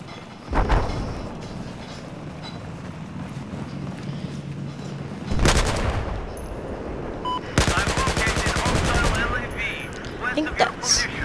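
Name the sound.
gunfire in the video game Battlefield 4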